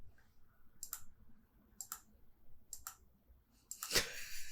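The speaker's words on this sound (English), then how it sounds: "get a few clicks extra audio so you can noise filter out some of the mouse clicking" A computer mouse clicks sharply a few times at spaced intervals, close and quiet, followed by a brief louder rustle near the end.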